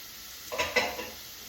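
Shrimp stirred through a pan of peas and carrots for fried rice give two quick sizzling bursts of scraping and frying over a quiet background, close and brief.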